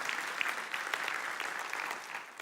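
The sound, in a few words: applause in church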